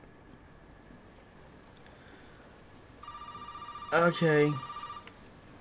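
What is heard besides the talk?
telephone ringing in video game Resident Evil 7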